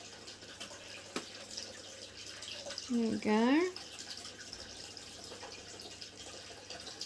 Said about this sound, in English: So let's just water it.